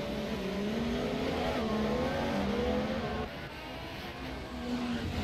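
Formula 1 race cars lap the Baku Grand Prix street circuit in the F1 2017 video game, a continuous loud engine whine rising and dropping in pitch through gear changes, alone without talk.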